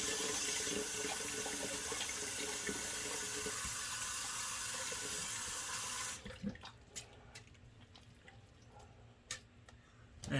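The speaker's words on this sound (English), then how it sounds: "I'm going to do a quick rinse." Tap water runs steadily as a broad, loud rush for about six seconds while rinsing after a head shave, then cuts off, leaving quiet room sounds and a few small clicks and drips.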